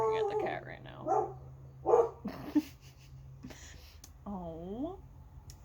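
Several dog barks and yips scattered over a few seconds, a bit distant, aimed at a cat in the house, mixed with excited human voices and a steady low hum.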